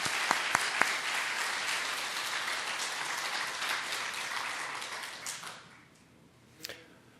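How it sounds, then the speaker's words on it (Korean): A church congregation at a Christmas service applauds steadily for a few seconds, then the clapping fades away into quiet room tone, with a brief faint voice near the end. "우리 박수로 영접해 주시기 바랍니다."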